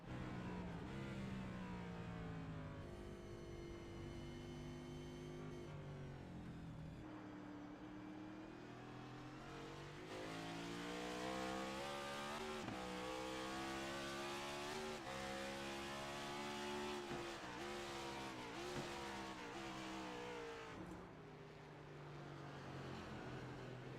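Onboard race car engine of the number 10 Ford in the iRacing simulator on the Chicago Street Course, loud and continuous, revving up through the gears with repeated shifts and throttle lifts for corners, with no talking.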